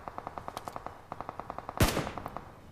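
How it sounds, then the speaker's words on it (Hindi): Automatic gunfire from a shooting video game rattles off in rapid, evenly spaced bursts, broken by a loud blast-like shot near the end before the firing resumes. "देख रहे हो गोली चल रही है, पीला धुआं आ रहा है"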